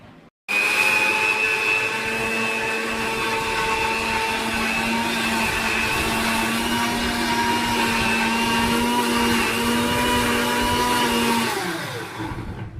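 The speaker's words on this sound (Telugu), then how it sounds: "చూసుకోండి, ఇక మిక్సీ పడుతున్నాం." A kitchen mixer grinder blends mango juice with a loud, steady motor whine that runs for about eleven seconds, then spins down and stops.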